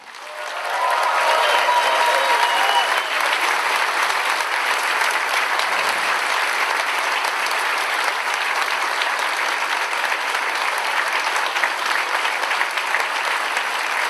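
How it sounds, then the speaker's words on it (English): A large audience applauds steadily at a ConFuzzled 2018 convention closing ceremony, the dense clapping swelling in after a moment and holding loud and even throughout, with a few faint voices briefly audible at the start. "Could I have a round of applause, please, for one of our directors, Bear?"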